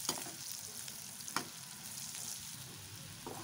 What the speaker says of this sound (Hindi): मैंने धीमे धीमे करके मैंने सारे सोयाबीन इसमें डाल दिए हैं, बस कुछ नहीं करना है इस समय, अच्छे से फ्राई करना है